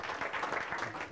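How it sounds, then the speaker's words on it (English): Faint, diffuse applause rises from a room full of people at a leadership development session, given for the city attorneys, sounding distant and steady for about a second. "let's give our city attorneys a round of applause"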